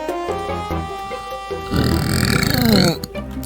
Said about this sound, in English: It wasn't very loud, but it sure was a burp.